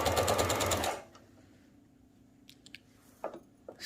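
A sewing machine stitches along the edge of fabric on a sleeve beside lace, a loud steady whir for about a second before stopping, followed by quiet handling of the cloth and a few faint clicks.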